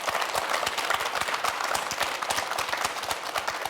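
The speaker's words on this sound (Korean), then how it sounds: "여러분 박수 한번 부탁드리겠습니다" A studio audience at a televised district town-hall event in Gwangju's Buk-gu claps for the district head and staff, a lively round of applause with distinct individual claps standing out close by.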